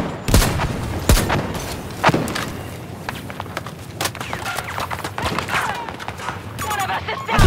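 Battlefield 2042 gunfire cracks in irregular bursts and single shots, some loud and close, others distant, over a busy battlefield rumble with shouted voices mixed in.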